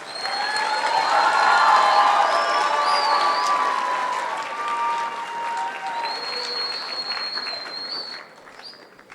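Audience at an 8th grade promotion ceremony breaks into loud, sustained applause with cheers and high whistles over it, building to a peak early before slowly tapering off near the end.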